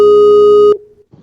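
A loud, steady electronic phone tone sounds close up for under a second, then cuts off abruptly, leaving faint background noise.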